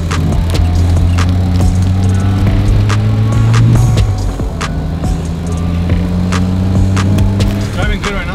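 A RENNTech-tuned E60 Mercedes-Benz driving, its steady low engine hum with a drop in pitch partway through, joined by road and cabin noise and sharp clicks.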